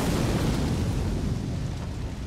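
A fiery Magma Shot spell erupts in Elden Ring, a loud, sustained rumbling blast with dense low roar that holds steady and fades slightly over a couple of seconds, with no voices.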